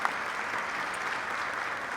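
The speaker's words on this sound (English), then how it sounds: "let's give you all a round of applause for making it to where you are" Steady applause fills the room at a Latina heritage brunch, a dense, even wash of clapping from the seated audience with no pauses across the short stretch.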